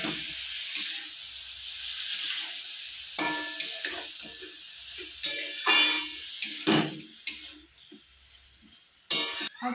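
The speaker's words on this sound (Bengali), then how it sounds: "এবার আমি পোস্ত আর কাঁচা লঙ্কাটা ঝিঙার মধ্যে দিয়ে দেবো।" Poppy seed and green chili paste goes into ridge gourd frying in a pan, heard as a soft sizzle broken by scraping and stirring knocks from a spoon, close and fairly quiet, with no talking.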